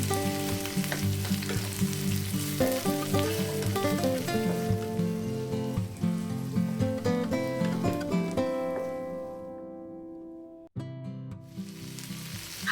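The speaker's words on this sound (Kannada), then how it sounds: "ನೆಕ್ಸ್ಟ್ ಇದಕ್ಕೆ 2 ಬಿಗ್ ಸೈಜ್ ಓನಿಯನ್ ರಫ್ಲಿ ಕಟ್ ಮಾಡಿ ಹಾಕೋತಿದ್ದೀನಿ. ಇದನ್ನು ಲೈಟಾಗಿ ಕಲರ್ ಚೇಂಜ್ ಆಗೋ ತನಕ ಫ್ರೈ ಮಾಡ್ಕೋಬೇಕು." Two big, roughly cut onions fry in mustard oil for a vegetarian thali, a steady sizzling hiss under background music that fades out near the end.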